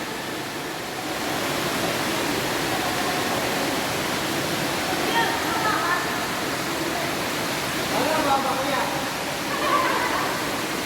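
A stream runs inside Sumaguing Cave, a steady broad rush of flowing water that fills the space, with indistinct voices nearby.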